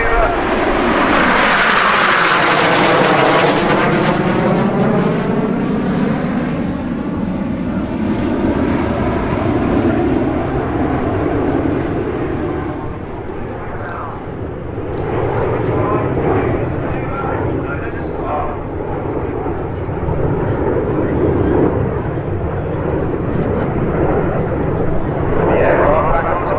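Red Arrows jets fly in formation at an air show, producing a loud, roaring engine rush that sweeps in with a falling pitch as the aircraft pass, then settles into a broad, sustained rumble with a narrator talking over it.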